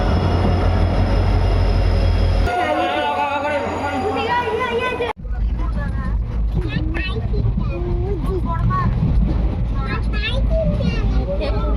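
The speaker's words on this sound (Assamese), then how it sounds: "এতিয়া আহিলে ট্ৰেইন" Train pulling into an Indian railway station, its rumbling rail noise continuous and loud beneath frequent overlapping speech from nearby people on the platform.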